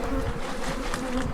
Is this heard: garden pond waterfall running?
no